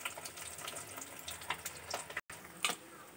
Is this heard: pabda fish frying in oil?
yes